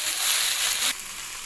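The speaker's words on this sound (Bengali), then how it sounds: "আবার একটু নাড়িয়ে নেব খুব ভালো করে।" Vegetables for a vegetarian chachchari of okra, pumpkin and potato sizzle and fry in a pan as they are stirred, a steady close hiss that drops slightly partway through.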